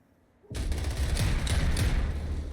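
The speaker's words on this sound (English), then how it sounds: "Crusader gets a sawed-off shotgun kill on Randy" Dense gunfire erupts suddenly in a competitive online shooter match, a sawed-off shotgun among the weapons, with loud rapid overlapping shots and booms continuing after the burst begins.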